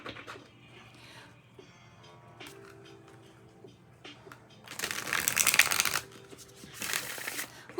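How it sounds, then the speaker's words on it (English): Tarot cards from a Moonchild deck are shuffled by hand in a quiet room, soft riffling at first, then a louder, dense flurry of flicking and bending cards near the end. "A very easy shuffle."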